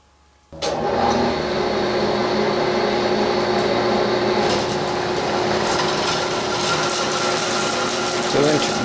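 Power drill boring a hole into a log for a simple log trellis, a loud continuous grinding whir that starts abruptly and holds steady for several seconds close up, with no talk.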